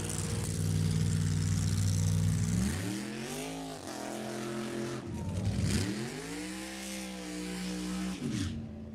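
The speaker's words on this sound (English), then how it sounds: "The RPM still way up on that car" A nostalgia drag race car engine revs high, dipping and climbing in pitch several times in sustained roaring sweeps, heard from a short distance.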